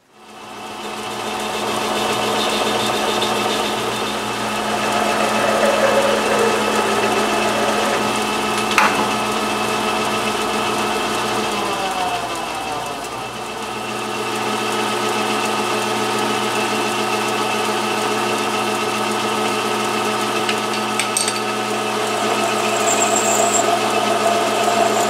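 Steady drilling hum as clearance holes are bored into a quill lock part for an RF30 mill, a continuous close machine drone with a shift in tone midway, no talking.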